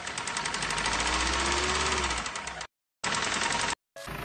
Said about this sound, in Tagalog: So, balik na sa ayos yung tunog ng makina niya.